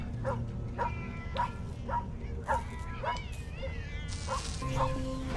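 Short, evenly spaced dog barks from the video game Tales of the Neon Sea, repeating about every half second over a continuous low background score.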